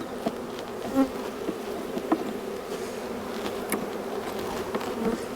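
Honey bees buzz densely and continuously around a hive during a swarm transfer, a close, steady drone with individual bees passing the microphone.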